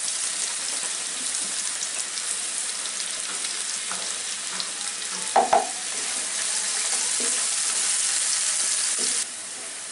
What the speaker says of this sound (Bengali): সাইডগুলা লাল হওয়া পর্যন্ত ভেজে নিব।